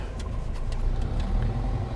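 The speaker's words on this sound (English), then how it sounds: "Traffic" Steady road traffic on a busy Saturday morning, cars rumbling past continuously with a low engine drone and occasional brief swishes of passing vehicles, fairly near.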